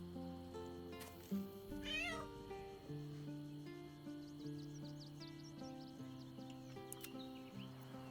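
A cat in the video game Baldur's Gate 3 gives a single rising meow, faint and brief under a steady layer of game music.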